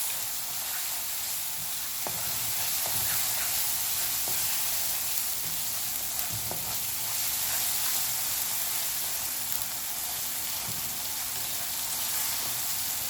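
A pan sizzles loudly and evenly as dry powdered spices and ground peppercorns are mixed in, the steady hiss marked by a few faint scrapes of stirring.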